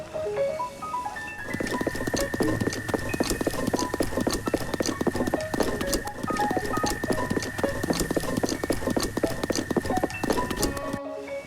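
Link's footsteps in Breath of the Wild patter in a steady, rapid stream of close, crisp steps over a sustained tonal background, continuing evenly for several seconds before stopping.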